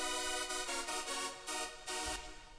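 A heavier second chord-layer synth from a hardstyle track, made in FL Studio 20, plays dense, saturated chords in a rhythmic stab pattern, full and bright yet clear, close and without any voice.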